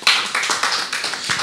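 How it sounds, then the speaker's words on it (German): Brief burst of audience clapping welcoming a sociologist speaker at a net-politics evening talk, a short cluster of close, uneven claps. "Ja, erstmal ein Applaus."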